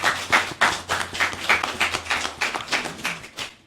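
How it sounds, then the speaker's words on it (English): Small audience clapping for a speaker at a literary tribute event, distinct hand claps forming a brief, moderately close round of applause with no talk. "Please give a round of applause for Rhonda Crowder."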